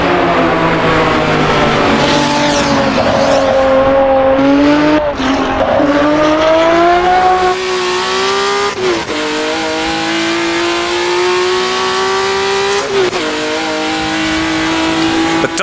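A 1960s sports car engine in Assetto Corsa, loud and continuous throughout, its revs climbing steadily and dipping at several gear changes, with a brief tire squeal.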